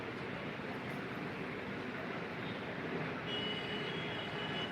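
A Mumbai Metro Line 3 train runs with a steady, close rumble of wheels and car noise that holds evenly throughout, a faint high whine joining toward the end, with no voices.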